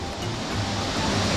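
Boti waterfall in Ghana rushing, a steady, loud, full roar of falling water that holds evenly with no voices.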